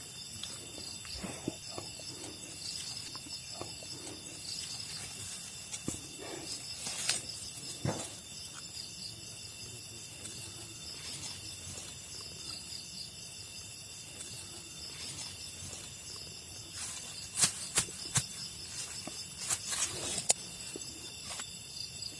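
Crickets chirp in a forest at night, faint scattered bursts of high trilling that come and go against a quiet background, with a few clustered chirps toward the end.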